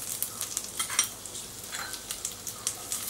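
Ginger and cumin seeds fry in about two tablespoons of hot oil with a soft, faint sizzle, punctuated by light scraping and tapping as a spoon stirs the pan.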